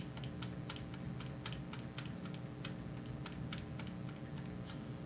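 Repeated clicks on a computer keyboard, the delete key tapped again and again while booting into the BIOS of an Asus Prime Z690-P WiFi D4 motherboard, quiet and evenly spaced against a faint hum.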